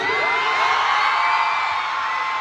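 A big concert crowd of fans roars with continuous cheering and high whoops, a loud, steady wall of voices with no break.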